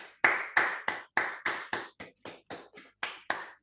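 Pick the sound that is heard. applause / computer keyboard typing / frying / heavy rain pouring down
applause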